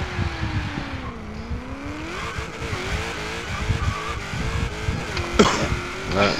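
A Ford GT and a Mustang of roughly 800-900 horsepower drag racing, engines screaming and rising in pitch through gear changes with tire noise, loud and close.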